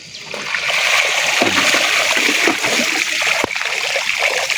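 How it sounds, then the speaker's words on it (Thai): Floodwater from a swollen creek rushes steadily past, a loud, continuous churning and splashing flow with no pauses, close by and filling the whole scene. "น้ำท่วมบ่เขาเลย น้ำไหลเรื่อย ๆ"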